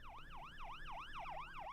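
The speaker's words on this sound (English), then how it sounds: "was only interrupted by passing ambulance sirens" A passing ambulance siren in New York City wails in a rapid, repeating up-and-down sweep, fairly distant and faint, with no one speaking.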